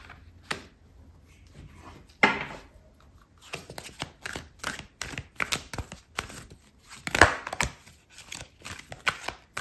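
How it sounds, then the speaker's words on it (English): Tarot cards being shuffled, handled and drawn from the deck, a close sequence of papery riffles, flicks and soft taps in irregular clusters with quiet gaps. "I'm going to pull out a card for your advice"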